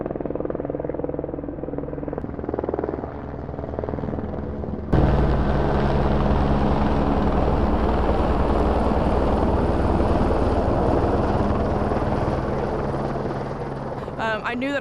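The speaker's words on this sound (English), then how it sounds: "About that time, the building began to shake. Life flight was coming to land." A life flight medical helicopter comes in to land near a hospital, its rotor roar suddenly swelling loud and close, then holding a heavy, steady thrum.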